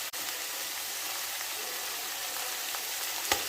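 Vegetables sauté in a hot pan with a pinch of salt for a potato curry, giving a steady, close sizzle that runs evenly throughout with one brief clink near the end.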